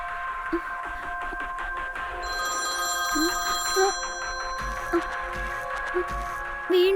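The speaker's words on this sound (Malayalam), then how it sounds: "വീണ്ടും അതേ നമ്പറിൽ നിന്നാണല്ലോ കോൾ വരുന്നത്" An incoming call makes a phone ring with a repeating electronic tone, sustained and fairly close, with faint background sounds and short bursts of activity between rings.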